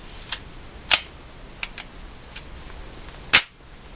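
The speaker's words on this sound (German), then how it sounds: "Überraschen lassen vom Schuss." Gunfire at an indoor shooting range with a real firearm, a few sharp isolated cracks spaced irregularly, the last one loudest and closest, with no talking.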